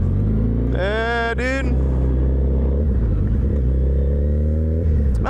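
A Ford Mustang's engine rumbles deeply nearby, rising through one sharp rev, then settling back into a steady low growl, with a voice speaking briefly over it.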